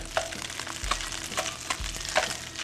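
Mackerel being stir-fried in a hot pan for mackerel and salted egg fried rice, with steady crackling sizzle and a few sharp scraping strokes of the spatula spaced through it, close by and with no talk.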